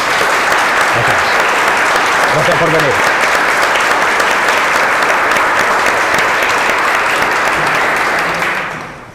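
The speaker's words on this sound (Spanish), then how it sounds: "Un fuerte aplauso." Sustained audience applause fills a library hall at a book presentation, steady and loud for about eight seconds before fading, with someone briefly speaking over it near the start.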